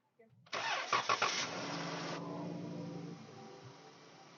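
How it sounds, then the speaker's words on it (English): A Chrysler Town and Country minivan engine cranks briefly and catches, then settles into a steady, fairly loud idle that quiets slightly toward the end, with no talk over it. "And now I can go ahead and start the vehicle"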